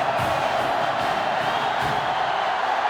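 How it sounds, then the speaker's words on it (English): A loud, steady roar of a sellout stadium crowd, with cheering and whooping swelling throughout, from the NCAA Football 2005 video game during an Alabama vs Auburn game. "This sellout crowd is really making a difference now as these guys can't even call the play"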